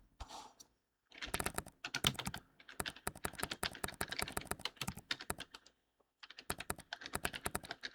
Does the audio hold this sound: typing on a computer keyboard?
yes